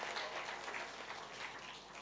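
Club gathering applauding a member during a vote of thanks, a faint, distant patter of many hands clapping steadily.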